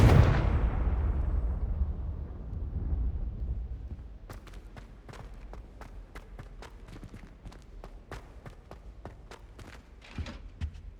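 A Confringo blasting spell in Hogwarts Legacy goes off with a loud opening burst that decays over a couple of seconds, followed by a scatter of sharp crackling debris and impact clicks.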